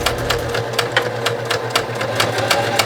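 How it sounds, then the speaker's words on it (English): Sewing machine stitching along the folded edge of a handmade tabletop-gaming tote bag as fabric is guided under the presser foot; a close, steady motor whir with fast, regular stitching pulses throughout. "And we're gonna sew off that edge."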